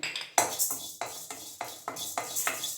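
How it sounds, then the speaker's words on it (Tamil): Toor dal being dry roasted in an oil-free pan, with rhythmic scraping and rattling strokes of a spoon against the pan about every half second, close and crisp. "இப்போ எடுத்து வச்ச துவரம்பருப்பை சேர்த்து வறுத்துக்கிறேன்"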